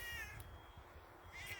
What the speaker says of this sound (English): Come on, you little meowing thing.